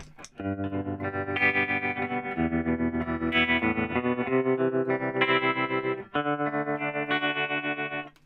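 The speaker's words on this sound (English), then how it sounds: "it's a constantly varying volume level" An electric guitar through a tremolo pedal plays sustained chords with a pulsing, wavering volume, the tone throbbing rhythmically throughout.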